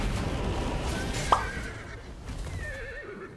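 A horse in the video game Where Winds Meet gives a loud whinnying neigh that wavers up and down, backed by hoof clip-clop and busy game background noise.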